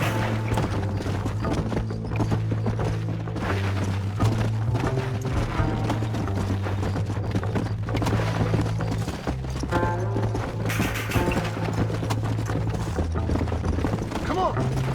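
Horse hooves clip-clop in a steady rhythm throughout in Red Dead Redemption PC gameplay, mixed with a voice speaking, music-like tones and occasional booms.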